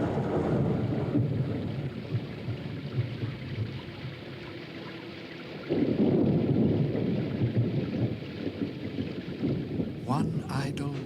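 Steady rain with low rumbling thunder fills a rainy day, a heavier downpour surge swelling midway and staying dense to the end, with a brief crackling burst near the close.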